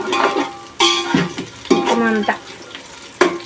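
Biryani ingredients and spices being stirred in a pot, with a spoon scraping and clinking in several strokes over a steady frying sizzle, while a person says a word.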